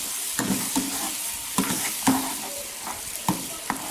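Finely chopped tomatoes fry in a pan for chana daal, a soft steady sizzle punctuated by several scraping stirs of a spoon, close by with no voices.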